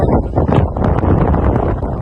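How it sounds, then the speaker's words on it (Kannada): Strong, steady wind buffets the microphone in a loud, continuous rumble with no break for the full two seconds. "ಗಾಳಿ"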